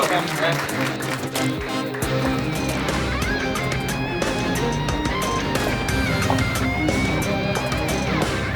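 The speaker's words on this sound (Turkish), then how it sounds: "Ama önce bu güzel soframızın sahibi canımız anamız Naciye anneye bir alkış." Guests around a dinner table applaud the host with steady clapping that runs throughout, layered under loud music and voices.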